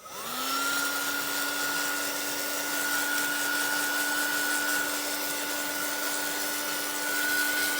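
A heat tool blows steadily to dry a junk journal page, a constant loud whirring drone with a whine that holds unbroken for the whole stretch, no voices.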